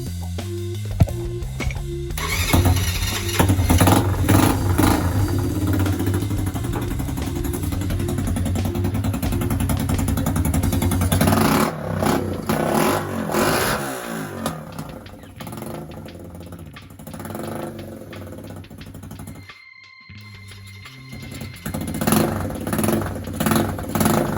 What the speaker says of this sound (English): He's telling me to do a burnout.